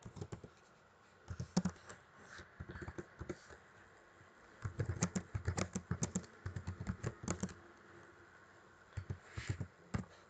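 Fingers type on a computer keyboard while text goes into a Google Form, producing quiet bursts of rapid key clicks separated by short pauses.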